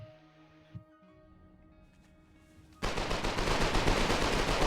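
SMG gunfire in the war game Foxhole breaks out after a quiet lull, loud sustained rapid-fire bursts filling the second half, with faint earlier game sounds.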